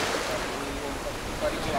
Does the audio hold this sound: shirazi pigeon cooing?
no